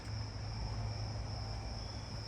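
A jumping bush cricket chirps in a backyard at night, a steady high-pitched buzzing trill that sounds distant and carries on without a break over a low background hum.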